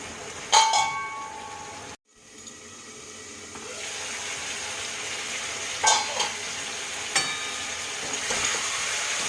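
Bitter gourd and onion curry is stirred in a pan, with soft scraping strokes and sharp clinks of the utensil against the pan over a steady background hiss of cooking; the sound is near and fairly quiet, with no talking.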